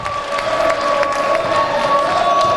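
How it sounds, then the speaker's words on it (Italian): A basketball crowd at an Italian Serie B game rises in a standing ovation, with sustained cheering and applause filling the arena loudly and continuously, under scattered whoops and shouts. "Standing ovation per Alessandro Spatti"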